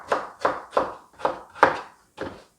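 A knife julienning carrot on a cutting board gives six crisp, close thunks in a steady rhythm, with a short pause before the last stroke and no voices.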